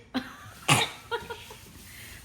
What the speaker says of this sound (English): I have a bad cough though